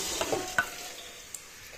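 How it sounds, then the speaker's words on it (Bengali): Rice and green peas fry lightly in a pan, giving a soft, faint sizzle with a couple of quick stirring clicks from a spoon early on, then a quieter hiss. "চালগুলো হালকা ভেজে নিচ্ছি মটরশুঁটির সাথে"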